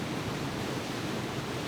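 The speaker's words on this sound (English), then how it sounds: "We took the samples from the waterfall and decided to like twist it into a song" Rushing waterfall water sampled for use in a song, a steady broadband roar with no breaks, close and even throughout.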